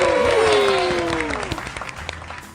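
A crowd of creatures greets arrivals at the Scala Opera House, a short burst of cheering and clapping that fades over a couple of seconds, with voices mixed in.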